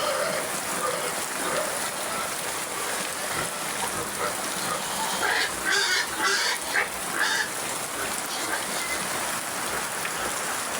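Steady rain hisses over everything, with honking geese or ducks calling intermittently in the middle, as a nearby creek floods.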